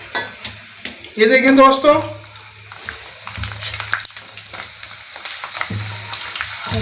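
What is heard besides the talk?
dried potato slices frying in oil for homemade chips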